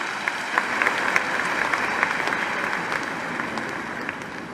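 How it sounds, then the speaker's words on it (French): Applause from the audience at a Mauritian International Women's Day ceremony with ministers present, a dense steady wash of many hands clapping with no voices over it, holding at an even level for the whole stretch. "Vous pouvez les applaudir bien fort."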